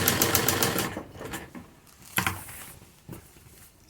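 A sewing machine stitches a leaf design onto a salwar in short, close, uneven bursts of rapid needle patter separated by brief pauses.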